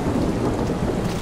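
Heavy rain and a low rolling rumble of thunder fill a stormy night scene in the stealth video game Splinter Cell: Blacklist, a dense, loud, steady wash with no voices.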